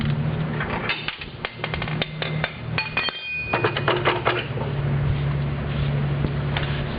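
A hand ratchet turns counterclockwise to loosen the blade bolt on a 48-inch Scag commercial mower, giving a steady run of sharp metallic clicks and knocks, close and fairly loud, with no talking.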